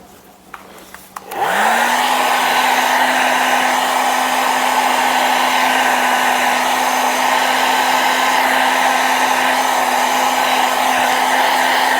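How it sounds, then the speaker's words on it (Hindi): A hair dryer at low speed blowing on alcohol ink switches on after a second and then runs as a steady, loud, close whine and rush with no talking. "ड्रायर की स्पीड अभी मैंने लो कर रखी है"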